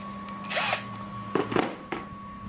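The keyless chuck of an NRT-PRO CD-330 cordless drill is twisted tight by hand, giving short ratcheting clicks and scraping bursts in separate spurts, close and fairly quiet over a faint steady hum.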